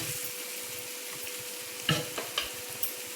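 Onions or seasoning sautéing in a pan for Tamil paruppu usili with karamani, a soft steady sizzle with a few sharp spatula scrapes and taps near the end, close and alone.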